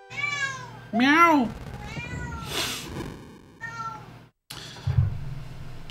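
A house cat meows several times close by, the calls rising and falling, with a person's voice heard between them and a short gap near the end.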